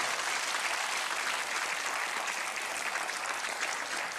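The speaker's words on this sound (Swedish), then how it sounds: "Applåd." Applause from an audience in a Swedish setting forms a steady, even wash of claps that continues throughout at a modest level.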